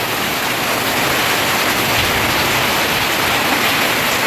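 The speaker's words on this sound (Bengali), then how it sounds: "কীভাবে বৃষ্টি নামলো দেখো।" Steady, dense rain pours down outdoors on a windy morning, a continuous loud hiss of drops on surfaces with no pauses and no talking.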